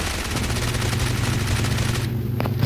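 Rapid, loud automatic gunfire in the mobile shooter game PUBG Mobile fills the whole stretch as a dense continuous burst, ending abruptly just before a final crack.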